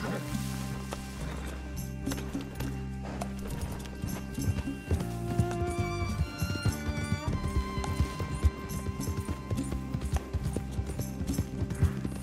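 A horse trots in the video game Red Dead Redemption 2, with rhythmic clip-clop hoofbeats over game music and someone talking throughout.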